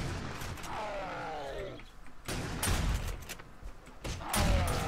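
Gunfire aimed at a cop zombie in 7 Days to Die Alpha 16, loud shots cracking out in separate bursts alongside rumbling game noise and a few mechanical creaks.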